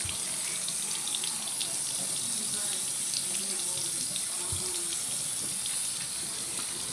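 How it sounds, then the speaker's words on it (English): Steady running water from a shower or tap while a small, skinny pet is washed and massaged, a continuous close hiss with faint splashing throughout. "Yes, it does take 5 minutes to shower him."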